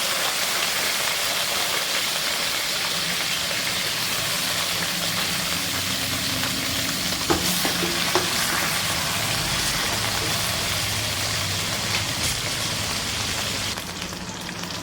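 Curry leaves fry in hot oil for a homemade red apple pickle, a continuous close crackling sizzle with a few sharper pops, steady throughout with no voices.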